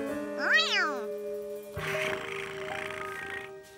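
A cartoon cat meows in a rising, wavering cry over steady background music, followed by a burst of softer noisy sound.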